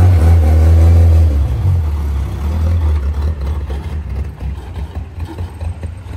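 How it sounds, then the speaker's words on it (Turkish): A motor vehicle engine, probably a motorcycle, rumbles loud and close on a city street in İzmir, with a strong low drone that fades and roughens as it passes, leaving mixed traffic noise. "Orada da motor geliyor."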